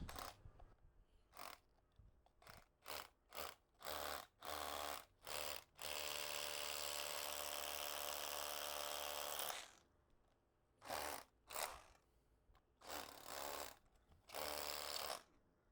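A Milwaukee M12 cordless rotary hammer (M12FHAC160) drills in short repeated bursts, then one long continuous harsh hammering run, then more short bursts, loud and close.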